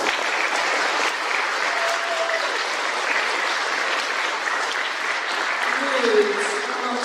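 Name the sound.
applause for the 9th grade class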